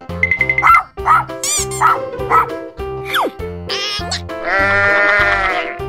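A toy's animal sounds play in quick succession: a rapid run of yipping dog barks, then a squeaky slide and a sustained bleating sheep call near the end, loud and close.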